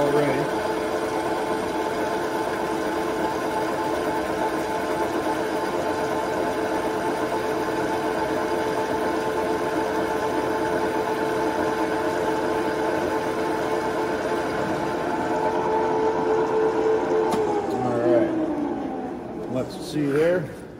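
A machine tool cuts a live deck sprocket with a steady, droning mechanical whir that runs unbroken at an even level, shifting slightly in pitch near the end.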